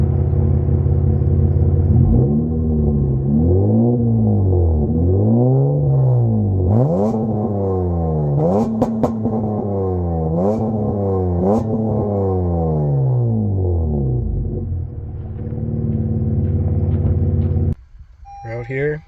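A 2014 Acura MDX with a full 3-inch exhaust and tune revs repeatedly in a series of rising and falling sweeps, loud and close, ending in a brief change of sound.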